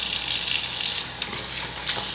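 Water runs steadily from a tap over a drip tray being rinsed, a bright continuous hiss with small splashes and clinks near the microphone.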